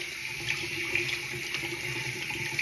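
Running water from a tap rinses shampoo out of hair during a wash, a steady hissing stream with small splashy fluctuations, close and continuous with no talking.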